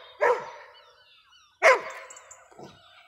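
A dog gives two sharp, close barks about a second and a half apart, followed by a fainter short yip, with quiet between them.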